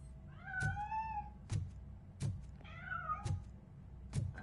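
Cat in the RoboCop: Rogue City video game, meowing twice in drawn-out wavering cries, interleaved with regular dull heavy thuds like footsteps, fairly close with no talk.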